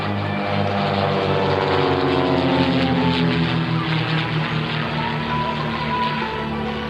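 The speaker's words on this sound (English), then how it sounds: "They'll push down on a 45 and half roll the aircraft." A propeller aerobatic airplane flying maneuvers at an air show, the Split Image Team at the Air Victory Museum Air Fair; a loud, steady engine drone with shifting pitch as it rolls and passes overhead.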